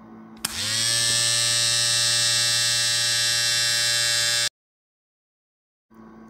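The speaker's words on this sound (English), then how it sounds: "Wait, I will shave." An electric shaver buzzes in Survivalcraft 2: a loud, steady electric hum starts abruptly and holds for about four seconds, then cuts off into silence before a brief return at the end.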